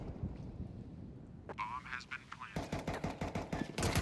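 Rapid automatic gunfire rattles in Counter-Strike on the Overpass map during an esports match, in bursts of quick repeated shots under a commentator's fast, excited talk.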